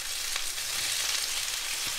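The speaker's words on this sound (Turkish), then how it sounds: "Ve kızartırken de yanına rosmarin, kekik, tane karabiber, sarımsak." Beef tenderloin fries in a pan with rosemary, thyme, peppercorns and garlic, giving a steady, continuous sizzle with faint crackles and no talking.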